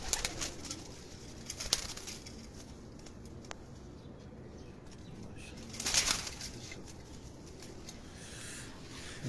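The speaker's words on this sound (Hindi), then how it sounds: "ये देखें ये देखें कबूतर" Pigeons on a Karachi rooftop coo softly with occasional wing flaps and a brief flurry of flapping partway through, over a low outdoor background.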